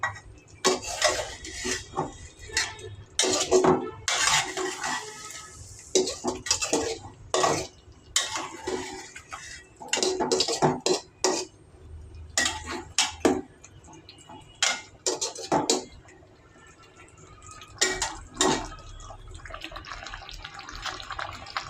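Food is sautéed in a pot, with bursts of rapid spoon scraping and clattering against metal, separated by brief pauses over a low kitchen hum.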